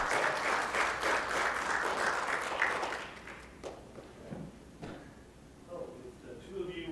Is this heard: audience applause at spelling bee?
yes